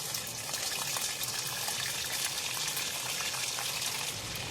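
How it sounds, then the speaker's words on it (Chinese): Canned food sizzles in hot oil while being stir-fried at a campsite, a steady hissing crackle of moderate loudness throughout with no talking. "把这个稍微炒一下"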